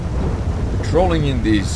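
A heavy thunderstorm rolls over Sandy Shores in GTA 5, with a steady rain wash and low rumble beneath someone talking.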